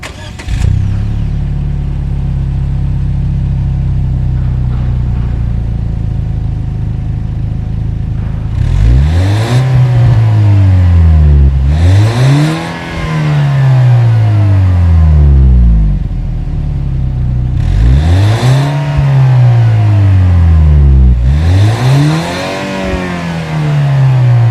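A 2019 Lexus IS300 F-Sport pulls hard from inside the cabin, the engine revving up and dropping back through several gear changes in repeated surging sweeps, loud and close, with no talking.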